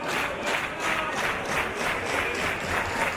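Wrestling arena crowd clapping in a steady rhythmic beat, dense and sustained across the whole stretch, loud and enveloping with no talk on top.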